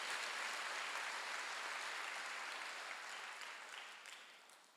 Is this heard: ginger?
no